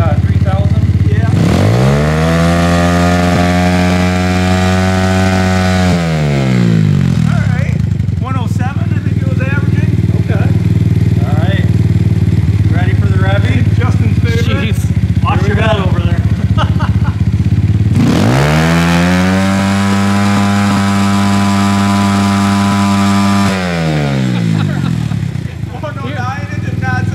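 An engine revs hard twice through a muffler, each roar climbing, holding, then dropping, with idling and people talking in between.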